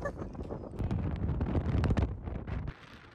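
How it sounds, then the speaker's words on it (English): Strong wind buffets the microphone outdoors on the Isle of Skye, a loud, rough, gusting roar that swells through the middle and drops away near the end. "It's really windy!"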